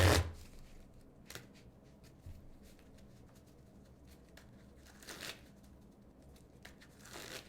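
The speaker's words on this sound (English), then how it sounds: "The new sleeves seem to shuffle pretty well." Trading cards in new, taller card sleeves are shuffled in a few quiet, short riffling bursts, each a crisp flutter of slipping plastic separated by near silence.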